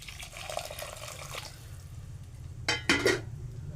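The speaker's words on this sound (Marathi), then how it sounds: "मी ॲड करतो पाणी लगेच" Water pours into a pot of besan pitla in a short splashing burst near the end, over a steady low background hum.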